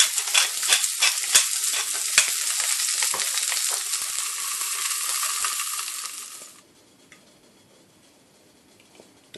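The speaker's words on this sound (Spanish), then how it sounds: "a saltear las puntas de espárrago con un poco de aceite." Asparagus tips sautéing in a little oil in a pan, a steady loud sizzle with faint clicks and stirring scrapes for about six and a half seconds, then dropping to a soft quiet hiss.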